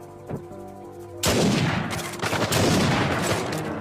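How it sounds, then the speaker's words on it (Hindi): Loud bursts of gunfire erupt in an Uncharted 4 shootout in Madagascar, a few quiet shots giving way to sustained, dense volleys of rapid fire that fill the rest of the moment. "जैसे ही मैं गोली चलाऊंगा, गोली चलाना स्टार्ट कर देना"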